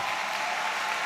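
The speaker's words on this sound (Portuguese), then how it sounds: "Vamos recebê-los com a salva de palmas carinhosa." Warm audience applause at a church camporee gathering welcoming a young engaged couple, a steady dense wash of many hands blending into a continuous roar.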